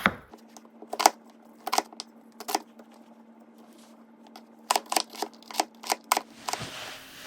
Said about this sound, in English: I'm going to go ahead and peel and slice up my onion